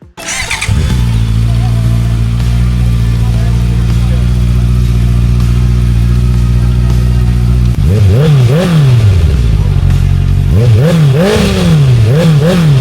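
Honda CB650R motorcycle fitted with a new Orion full underbelly exhaust, idling loud and close, then revved in two rising and falling blips; speech is audible at times.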